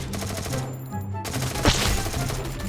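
A Thompson submachine gun in a shooting game fires in rapid, evenly spaced bursts, a fast mechanical rattle that carries on steadily throughout.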